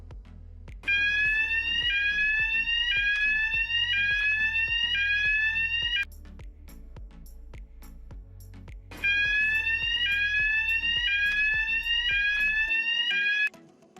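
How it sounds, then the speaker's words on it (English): An M-Pulse2pro industrial metal detector sounds its alarm as a product carrying ferrous or stainless steel test pieces passes the sensor: two loud bursts of rapid repeating rising electronic beeps over a steady low hum, separated by a short pause. "When the product with the test pieces passes the sensor, a metal alarm should be generated"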